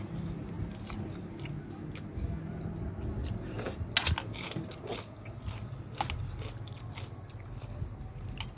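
Crunchy dried fish strip snack is bitten and chewed close up, with sharp irregular crackles and crunches over a faint low background hum.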